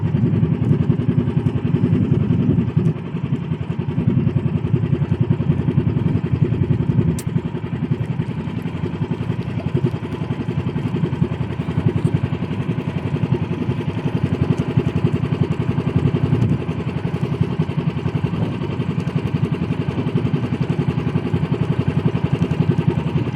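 A motorcycle engine that had sat unused for several days runs close by with a loud, continuous, slightly uneven chugging rumble and mechanical clatter, alone without talk.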